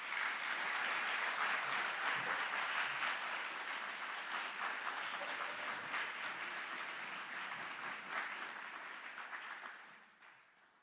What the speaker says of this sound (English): Please join us in giving a round of applause to these outstanding drill sergeants and instructors.